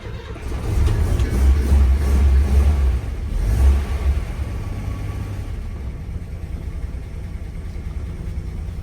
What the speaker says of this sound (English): We're going to fire up. Cold starts. 62 Chevy.